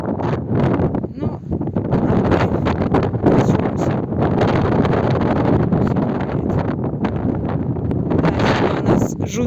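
Strong wind in a village countryside, roaring steadily and loudly across the whole stretch with constant buffeting against the microphone and no break.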